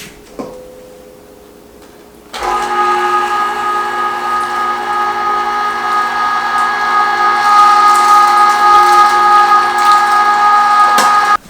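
An electric meat grinder working through venison starts abruptly after a quiet moment and runs as a loud, continuous motor whine with a steady hum, ending with a short click.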